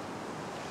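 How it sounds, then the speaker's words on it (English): Ocean waves smash and wash against the edge of a winter fishing beach, a steady, dense roar of surf mixed with wind buffeting the microphone. "the waves are hitting it and smashing it and washing up and down"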